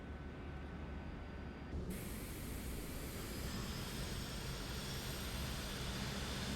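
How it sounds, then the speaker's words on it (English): Jet engines spooling up during an engine start in Microsoft Flight Simulator 2024: a steady broadband roar and hiss that thickens just before the two-second mark, then holds at a loud, even level with a thin high whine on top. "Engine start."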